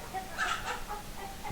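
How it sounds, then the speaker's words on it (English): Chickens cluck in a few short, soft calls close by against a steady background hum, with no talk over them. "My chickens, those chickens."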